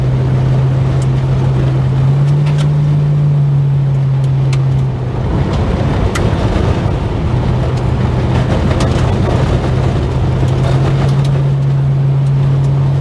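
A car travels along a well-kept gravel road, its steady engine drone and continuous tyre rumble filling the whole stretch without pause, with some wind noise and no talking.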